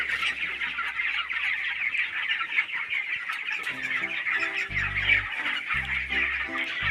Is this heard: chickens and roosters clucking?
yes